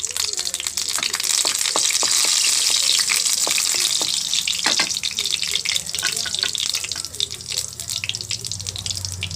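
A sprig of curry leaves dropped into hot oil for a masala base while cooking fish in a leaf, giving a loud steady hiss and crackle with scattered pops throughout.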